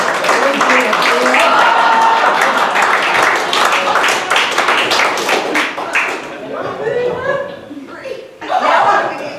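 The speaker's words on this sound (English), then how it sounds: "give them both a big round of applause" A live audience at a Cincy Magic show with a magician claps loudly for two volunteers, with laughter and talk mixed in; the applause fades after about six seconds and a short burst returns near the end.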